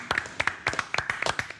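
Applause for a guest on a live Argentine evening variety show, heard as a short burst of sharp, irregular claps from a small group, close and fairly loud.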